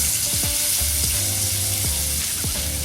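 Ribeye steaks searing in a hot pan, a loud steady sizzle up close with scraping and shifting sounds as the meat is moved around.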